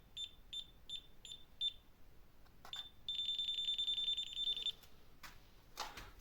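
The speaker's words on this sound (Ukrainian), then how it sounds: "Зверху також всі провода бачить, пищить." A FNIRSI DMC-100 clamp meter detecting wiring gives a run of five short, evenly spaced high beeps, then a longer continuous tone with a few brief chirps after, faint and alone in a quiet room.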